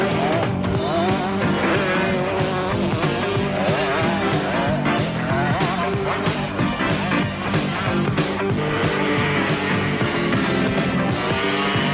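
ATCs race handlebar to handlebar, power sliding around a track at the 1983 National Championship in Santa Cruz, California, a dense continuous snarl of small engines revving and wavering without pause.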